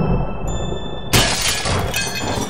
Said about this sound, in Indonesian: saat listrik berbunyi, pecahkan kaca